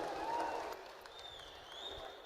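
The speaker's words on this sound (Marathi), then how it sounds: "जोरदार टाळ्या झाल्या पाहिजेत." Crowd applause at an outdoor Dahi Handi festival in Nilegaon, Nallasopara West, a broad wash of clapping and cheering that stays steady throughout, with a brief whistle-like tone rising midway.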